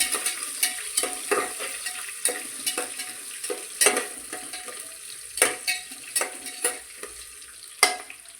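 A spoon stirs a sizzling tempering of curry leaves in a hot pan, giving repeated scraping clicks over a steady hiss of frying oil, close and alone.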